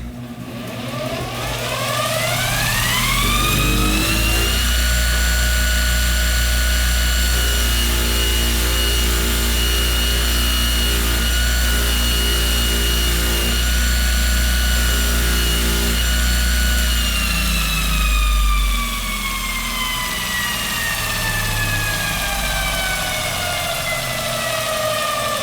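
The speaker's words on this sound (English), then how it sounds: "I'll go ahead to the sisal wheel with some black compound and I'll blend that into the hosel." A golf club hosel is buffed on a sisal wheel charged with black compound on a multi-tool refinishing machine: a loud, steady motor hum with a rising whine as the wheel spins up, holding for about fifteen seconds, then winding down.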